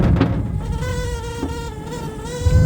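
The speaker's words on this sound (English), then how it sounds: "it does sound like there's a rather distressed bee somewhere in the bus shelter" A steady, loud buzzing hum with a wavering pitch drones on without pause inside a bus shelter, like a bee close by.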